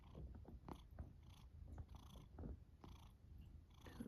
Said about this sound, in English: here's a purring cat for you.